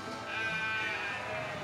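Young Boer-cross goat kids bleat in a farm pen in Pujon, one wavering, nasal cry held steadily for almost two seconds at close range over a low barnyard murmur.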